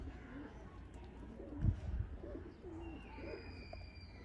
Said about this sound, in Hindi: ये हैं जी चपड़े कबूतर दोस्तों।